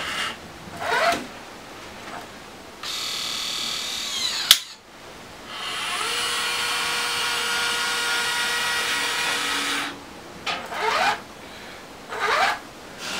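A small STEM toy robot's motors whir in bursts as it picks up an object: short high buzzing spurts, a sharp click, then a longer steady whine before more brief whirs, close and alone without talk.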